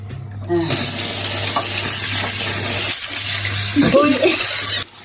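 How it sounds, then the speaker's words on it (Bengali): Raw lentils washed in water in a pot before boiling: sloshing, swirling water and rubbing grains, close and steady, with a brief splash near the end. "এখন এটা ধুয়ে আমরা এটা সিদ্ধ বসাবো"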